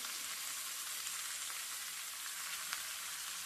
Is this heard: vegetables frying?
yes